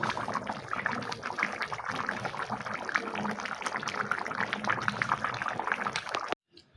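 Cooked mutton curry poured out of a pot, a steady wet pouring and trickling that runs continuously and fairly close before stopping abruptly at the end.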